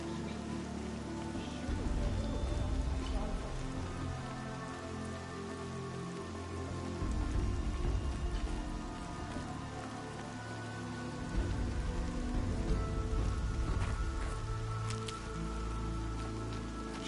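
Steady rain patters on surfaces in the video game Horizon Zero Dawn, a dense, continuous hiss with low rumbling undertones, swelling and easing slightly over the stretch with no talking.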